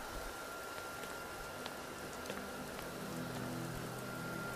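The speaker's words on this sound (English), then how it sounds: "And it started raining. Freezing cold rain." Freezing cold rain falls on a mountain path in the VR game Skyrim VR: a steady, even hiss of rainfall with faint scattered patters, no voices.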